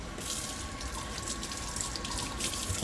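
Water from a tap runs steadily into a container while Haitian epis seasoning is being made, a continuous close splashing stream with no speech over it.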